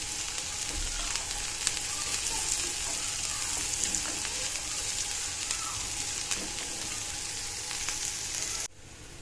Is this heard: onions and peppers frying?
yes